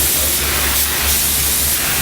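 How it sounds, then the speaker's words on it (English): A spray gun applying toner to wood door faces gives a steady, close, loud hiss without breaks for the full stretch. "I just come in the areas, you can spray over the whole thing if you want"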